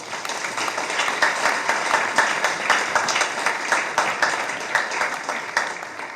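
An audience at a climate communication talk claps for the guests in a moderate, close round of applause. Individual hand claps stand out in a loose rhythm over roughly six seconds.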